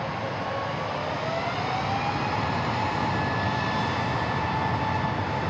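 An Airbus A320neo airliner's engines drone at DFW airport, a steady rushing roar with faint rising whine tones threaded through, sustained and moderately distant.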